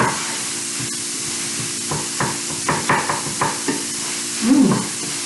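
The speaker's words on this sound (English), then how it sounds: "Stir it well and make sure that you are mixing the onions and the minced meat together." Onions and minced meat frying in a pan under a constant hiss, stirred in several short scraping strokes, close and fairly loud, with a brief louder clatter near the end.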